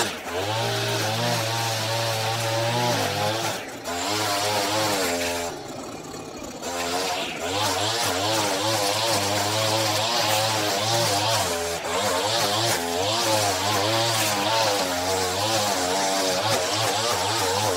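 A string trimmer cuts grass around a fence, its small engine whining loudly and steadily close by, with brief dips in pitch and level as it works along the line.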